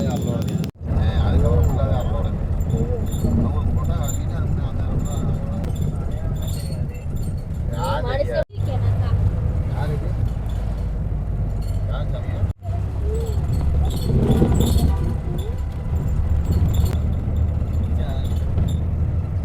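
Inside a Sri Lankan intercity bus on the Kandy to Nuwara Eliya route, a steady low engine rumble fills the cabin with rattles and clinks, broken by a few brief dropouts, while voices sound faintly in the background.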